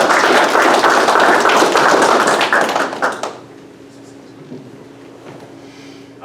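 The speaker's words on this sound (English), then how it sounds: "Let's give a round of applause to our newest promotees" A graduation audience gives a round of applause to newly promoted airmen, with dense, loud clapping for about three seconds that quickly dies away into a quiet room.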